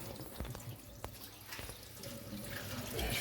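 A kitchen tap runs water over soaked greens in a colander, a steady close splashing rush with a few brief clunks early on, building slightly louder toward the end.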